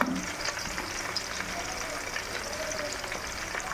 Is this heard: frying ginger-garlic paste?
yes